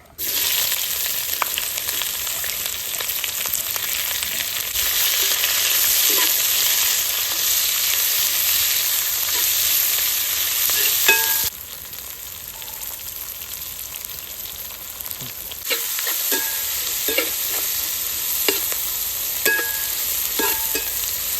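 Onions frying with mustard seeds in an uruli, a traditional bell-metal vessel, for country chicken curry: a steady, close sizzle that drops in level partway, punctuated by occasional light clinks and stirring taps, with no voices.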